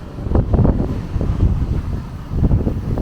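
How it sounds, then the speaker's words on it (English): Gusty wind buffets the microphone outdoors in Angeles City as rain begins, a rumbling, uneven roar of low gusts lasting a few seconds. "Just only windy."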